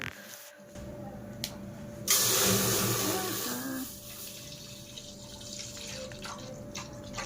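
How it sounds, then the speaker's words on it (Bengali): Milk pours from a container into a clean cooking pot, a steady liquid splash lasting about a second and then tapering into a softer trickle, close by in a quiet room. "এর মধ্যে কিন্তু আমি এখন মানে ঢেলে দেব দুধ"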